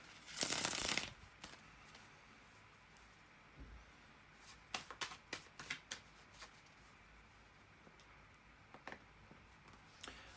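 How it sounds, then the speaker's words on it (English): A deck of tarot cards is shuffled close up in a quiet room, with a brief loud riffle at the start followed by scattered soft taps and flicks of cards being handled. "bear with me a second, guys, to shuffle the cards"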